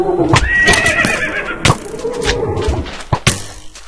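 A horse whinnies loudly in the Minecraft video game, a long rising-and-falling neigh near the start, followed by scattered thumps and clip-clop hooves and game sound effects, close and clear.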